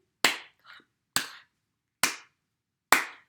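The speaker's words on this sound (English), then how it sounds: "Can you clap with me?" A presenter claps along to a children's hello song, four sharp, evenly spaced hand claps close up in a quiet room, with a faint soft tap between the first two.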